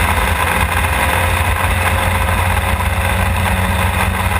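Historic Formula Ford racing car engine at Thruxton circuit, holding a steady, loud mid-pitched drone without letup as it runs down the straight toward the chicane.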